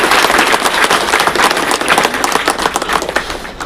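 A large crowd, many of them women, claps together at a Shiv Mahapuran religious discourse held by the Satpur Raja Ganeshotsav mandal. The applause is dense, continuous and loud, a steady crackle of many hands with no pause.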